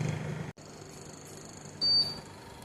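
A Remi R8C Plus centrifuge gives a short electronic indicator beep as its timer reaches zero, a single brief high tone over a quiet background hum from the machine.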